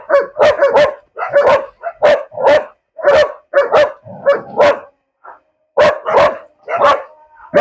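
A local Egyptian baladi dog barks loudly and close in a steady run of sharp, repeated barks, about a dozen in quick bursts with brief gaps, and no talk over them.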